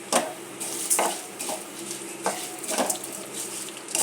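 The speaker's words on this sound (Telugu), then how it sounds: "ఇందులోనే వేసి ఒక్కసారి ఇలా కలిపేస్తే విడివిళ్ళాడుతూ బాగుంటుందండి పెసరపప్పు." A spoon scrapes and taps against a pan as moong dal is stirred into rice rava for upma, several distinct clinks over a soft continuous sizzle, close by.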